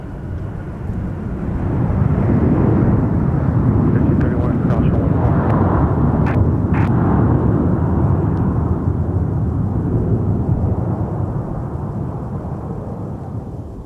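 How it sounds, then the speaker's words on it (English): A Boeing 737-800 in Sun Country Airlines' simplified-titles livery comes in to land at Minneapolis–St. Paul airport, its engines swelling into a broad, loud roar that holds and then slowly fades. Air traffic control chatter runs faintly underneath. "we got a 737-800 coming in the simplified titles livery for Sun Country Airlines"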